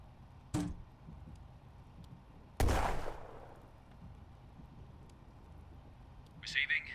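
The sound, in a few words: mortar fire in a video game, 8th Armoured Brigade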